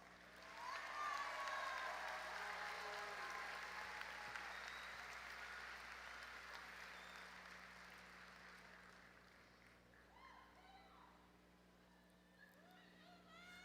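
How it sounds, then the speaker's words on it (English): A large crowd applauds the Pflugerville High School graduating class of 2025 at their graduation ceremony. The clapping starts loud and dense, then slowly fades, and a few faint honks can be heard near the end. "Let's give them a round of applause"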